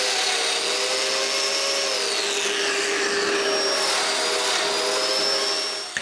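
A power drill boring mortises in wood for a closed bookcase, a loud, continuous motor whine with gliding pitch that stays steady throughout and cuts off abruptly at the end.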